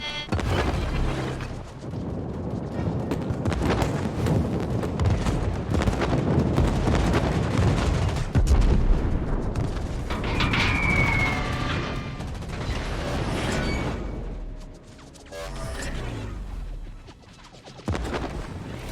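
Anti-aircraft flak fire in a naval warship video game, a long stretch of dense booming bursts and rumbling blasts rolling one after another, loud and continuous, with wind-like roar, easing briefly near the end before resuming.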